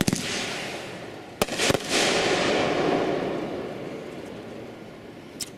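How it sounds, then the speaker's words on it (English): A fireworks cake firing its shots outdoors, sharp pops and launches followed by a long rolling crackle and rumble of bursts fading away, with a last distant crack. "I think there's 47 shots in that cake."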